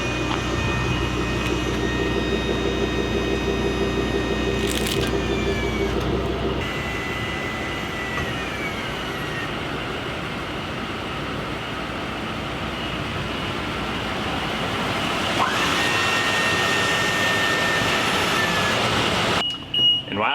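A hydraulic auto-leveling system on a 2017 Winnebago motorhome runs as a steady, loud mechanical drone with pump-like whine, holding continuously before cutting off near the end.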